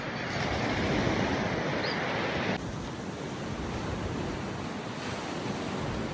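Steady roar of sea waves washing onto the shore at a beach campsite at Sri Mekar, Punggai, Kota Tinggi, Johor, a continuous broadband wash with no voices.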